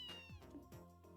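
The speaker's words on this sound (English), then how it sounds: "Oh, kitty." A cat in the video game Trails in the Sky gives a clear, close meow with a falling pitch, followed by two shorter mews over a soft game music bed.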